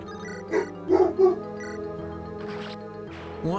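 A pet dog barks a few times indoors, short yips and bow-wows, moderately close over a steady background of game music.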